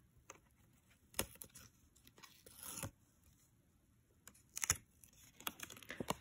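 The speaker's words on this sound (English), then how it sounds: "one more piece of score tape here" Score tape is torn off in a few quiet, sharp crinkling rips with soft handling noises between them, close and faint, with no talk.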